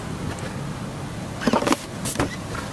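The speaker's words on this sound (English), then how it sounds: "Seats fold down, push of a button." The power-folding rear seats of a 2009 Infiniti EX35 lowering at the push of a button: a brief electric motor whir and soft mechanical clunks, close by, in a quiet cabin.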